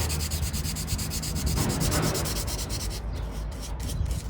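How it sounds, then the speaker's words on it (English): Rhythmic back-and-forth scratching of sandpaper rubbed by hand on curved wood spots, close and steady, with quick regular strokes throughout. "you just gotta take your sandpaper and sand by hand"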